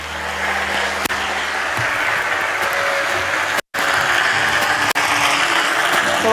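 An audience applauds to welcome the speaker Ekachai Wannakaew onto the stage. The clapping is a dense, continuous roar that holds steady, with one brief dropout.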